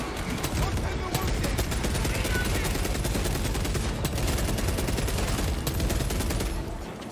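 Sustained rapid gunfire from Space Marine 2, a dense continuous automatic barrage with heavy low impacts that holds loud for several seconds before trailing off.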